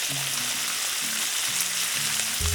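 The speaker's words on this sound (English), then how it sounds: "I'll be able to toss this garlic, butter, and fresh herbs into the pan." Garlic, butter and fresh herbs sizzle in a hot pan beside a New York strip steak, a steady, close, continuous frying hiss with faint low bubbling underneath and no talking.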